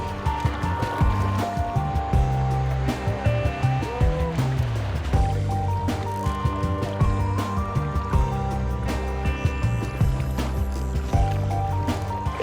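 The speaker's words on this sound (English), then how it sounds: "And now we all paddle forwards." Several paddlers stroke a canoe forward through water in unison, with rhythmic splashes and dripping, wet knocks, and lapping water, all close by.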